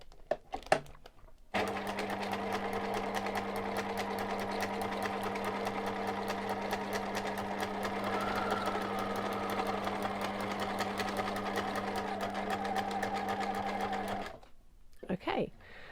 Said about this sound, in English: come round and sew about 4 stitches down. And then I'm going to pivot my work and run all the way back down the other end.